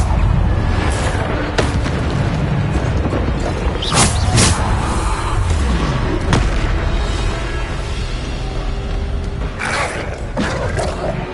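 Bombarda spell explosions in Hogwarts Legacy, several loud booming bursts spread across the stretch amid battle noise and mechanical clatter, close and heavy.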